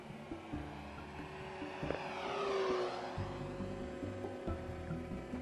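Electric propeller motor of a 1200mm Cessna 182 foam RC model airplane buzzes overhead in flight, faint and distant, swelling briefly as it passes nearer before fading again, with no talking.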